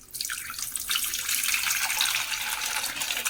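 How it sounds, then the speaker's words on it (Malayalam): Cold water pours in a steady, close hissing stream into gooseberry buttermilk made with yogurt and salted gooseberries, running without a break. "നമ്മളിതിലേക്ക് കുറച്ചും കൂടി തണുത്ത വെള്ളം ഒഴിക്കുന്നുണ്ട്"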